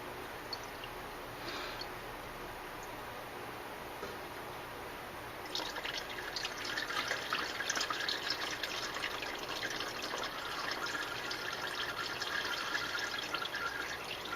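Automatic transmission fluid draining from a Saturn L-Series, a steady liquid trickle and drip into a pan, close and fairly faint, growing a bit fuller partway through with no talking.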